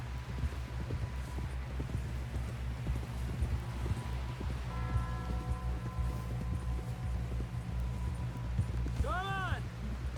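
A horse's hooves clip-clop steadily through Red Dead Redemption 2, the near, rhythmic thuds continuing throughout under game voices, with a short whinny-like sound near the end.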